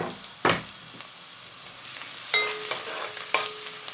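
Chopped garlic frying in oil in a pan for black pomfret fish curry, steady soft sizzle with a couple of stirring scrapes and clinks, close up with no talk.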